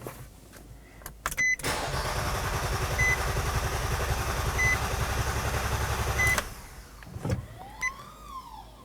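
A 2015-2023 Nissan Maxima 3.5L V6 cranks over without catching, a steady rapid starter churn running for about five seconds after a couple of brief clicks, then stopping into quiet shuffling.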